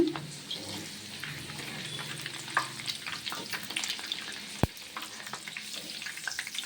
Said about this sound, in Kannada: ನೀಟಾಗಿ ಹುರ್ಕೊಳ್ಳಿ ಹುರ್ಕೊಂಡ್ರೆ ಕ್ರಿಸ್ಪಿಯಾಗಿರುತ್ತೆ